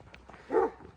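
A dog gives a single short bark at a village in the Turkish mountain highlands, brief and moderately loud over faint background sound.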